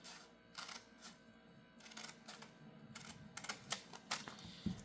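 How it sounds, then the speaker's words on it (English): Scissors slicing through paper in a craft session, a run of short crisp snips and cuts close by, fairly quiet, with no talk over them. "let's go ahead and slice this one so you can see that. And I just take my scissors"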